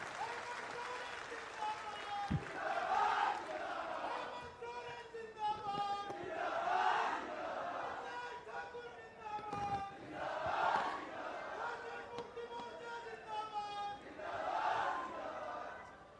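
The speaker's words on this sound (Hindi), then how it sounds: "युवा मुख्यमंत्री के लिए एक बार जोरदार तालियां पूरे जोश और उमंग के साथ।" A crowd at a public event for Chief Minister Hemant Soren in Garhwa district claps and cheers in sustained applause, swelling in loud waves roughly every four seconds, with voices and tonal sounds mixed through the noise.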